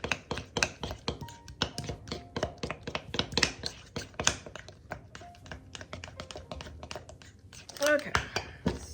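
Spoon stirring chocolate chips as they melt in a bowl for fudge gives a rapid run of clinks, taps and scrapes, close and fairly loud, with a few brief tonal squeaks and a voice heard now and then.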